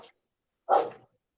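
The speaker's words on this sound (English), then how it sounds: "My dog is acting up." A single dog bark sounds at a moderate distance after a brief faint earlier yelp, short and alone against silence.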